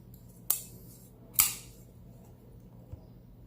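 Two sharp metallic clicks of a Spyderco Paramilitary 2 folding knife snapping open, close and crisp, followed by a faint softer tick in a quiet room.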